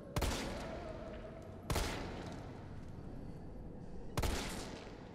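Gunfire in the Resident Evil 3 video game: three loud, sharp shots spaced a couple of seconds apart, each with a brief ringing tail over a low, rumbling game ambience.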